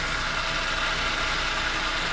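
A metal lathe cutting off a part on a drill grinder's pivoting diamond wheel dresser, giving a steady, even machine drone with a broad hiss that runs unbroken and fairly loud throughout.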